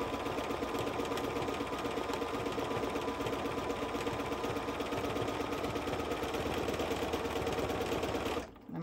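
A sewing machine fitted with a free motion foot stitches continuously in a fast, steady mechanical whir and clatter, running close and loud before stopping abruptly near the end.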